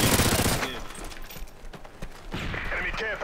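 Rapid shotgun blasts and gunfire crackle through a multiplayer shooter match, loud and dense, with bursts near the start and end and a voice talking over them.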